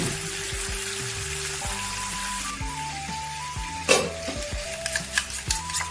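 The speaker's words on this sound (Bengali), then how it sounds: "আমি কি ভেজে রাখা চিকেনগুলোকে এই পেস্টের মধ্যে দিয়ে নাড়াচাড়া করে নেব।" Fried chicken pieces are stirred through a spice paste in a pan, giving a steady sizzle with scraping clatters of the spoon near the end, some sharp bursts standing out against the continuous frying hiss.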